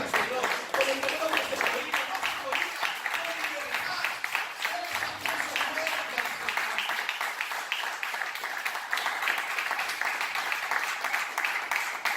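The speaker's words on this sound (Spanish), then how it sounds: "Denle ese aplauso fuerte" A congregation at a Spanish-language church service claps loudly on request, a steady wash of applause running the whole length, with a voice speaking over it and some crowd noise beneath.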